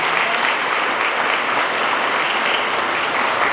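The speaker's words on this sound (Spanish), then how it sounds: "Un fuerte aplauso para ellas también que hoy están aquí." An audience at a cultural funding award ceremony gives steady, dense applause, loud and continuous throughout with no talk over it.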